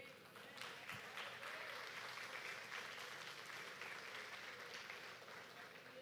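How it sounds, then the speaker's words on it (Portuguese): A church congregation breaks into sustained applause during a sermon, many hands clapping in a thick, continuous wash that swells in and holds steady, with faint voices mixed in. "Você pode aplaudir a ele?"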